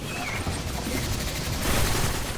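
Gunfire in the Destiny video game: dense, continuous rapid shooting with layered bursts that fill the whole stretch, loud and close, and no talk over it.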